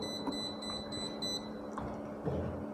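A UNI-T UT803 bench multimeter sounds a series of short, bright electronic error beeps in quick bursts during the first second and a half, steady and close against a quiet room hum.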